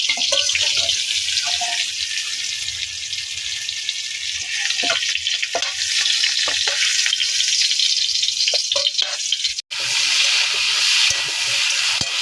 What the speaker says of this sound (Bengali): আলুটা দেখুন লাল লাল করে ভাজা হয়ে গেছে, এবার তুলে নিচ্ছি আমরা।